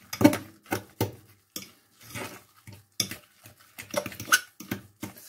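A spoon or whisk beating pease pudding quiche mixture with egg in a bowl, making a series of irregular knocks and scrapes that come and go in short bursts, close and fairly clear, with no talking.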